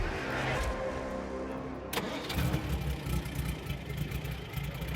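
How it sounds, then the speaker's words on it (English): A 1929 Duesenberg Model J engine cranks with a rough, uneven churn, then catches and settles into a steady, throbbing idle with a low rumble. "that's the sound of a well-maintained car that you can just reach in and crank it over"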